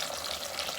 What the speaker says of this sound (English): when it starts to be bubble like this, we add the beef in